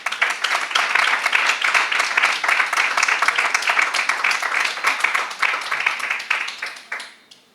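A crowd at a popular-running-circuit awards ceremony applauds a runner receiving her medal: dense, loud clapping that holds steady for several seconds, then thins and fades away near the end.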